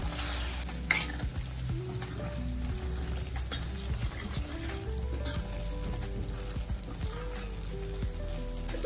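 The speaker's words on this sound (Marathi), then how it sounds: "कश्मीरी लाल मिरची घेतलेला आहे याने रंग छान येतो आणि इथे घेतलेला आहे आपण मिसळ मसाला थोडीशी हळद आणि हे छान मिक्स करून घेऊया" Misal spices, Kashmiri red chili powder, misal masala and a little turmeric, stirred and fried in a pan, giving a steady soft sizzle with scraping strokes and a sharper clink near the start, under background music.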